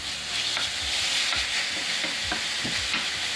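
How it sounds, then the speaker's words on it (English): Ground beef browning in a pan sizzles with a steady bright hiss while a utensil stirs it, a series of soft scraping pushes about every half second. "Okay, I got the meat going here pretty good. Just going to give it a stir"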